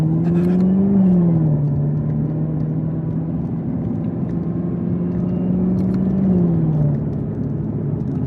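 Cabin ride in a 2021 Chevrolet Camaro ZL1 1LE on bumpy roads, with a steady loud engine drone and road rumble throughout and a couple of smooth revs rising and falling in pitch.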